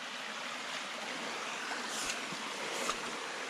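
Seasonal creek running strongly after rain, a continuous soft rushing and trickling of water, steady and fairly faint, with no voices.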